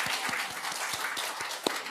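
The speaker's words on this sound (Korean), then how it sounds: "우리 한번 박수 쳐드렸으면 좋겠어요" A church congregation applauds during a Sunday service, with a brief, moderately loud burst of scattered hand claps filling the room.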